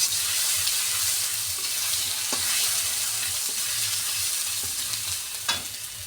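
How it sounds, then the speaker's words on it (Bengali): Garlic paste frying in hot oil in a home kitchen before lentil greens are added, giving a steady, close sizzle throughout with a few soft clicks of stirring and no voices. "রসুনগুলোকে লাল লাল করে একটু ভেজে নেব।"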